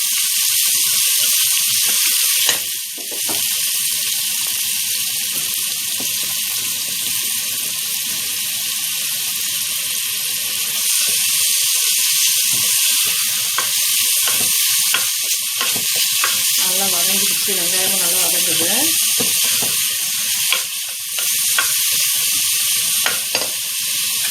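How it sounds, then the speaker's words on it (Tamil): Onions for chicken biryani sauté in a pan with a loud, continuous sizzle, stirred now and then with scraping sounds, and no voices over it. "வெங்காயத்தை போட்டு ஒரு வதக்கி வதக்கிடுங்க"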